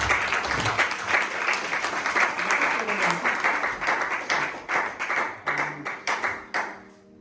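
A church congregation applauding together, a steady wash of many hands that thins out into a few scattered, distinct claps before dying away.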